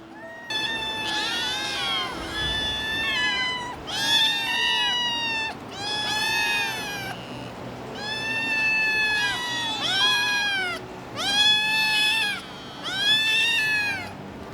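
Several Ragdoll cats meow loudly and repeatedly, their drawn-out, overlapping cries coming in bursts with short pauses between them.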